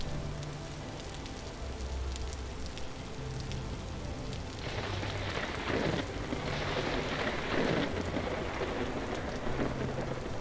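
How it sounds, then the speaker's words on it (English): Steady thunderstorm rain in a Minecraft video game, a dense hiss of downpour that grows heavier partway through, with low rumbling thunder underneath, continuous and immersive, with no talk. "This storm is crazy."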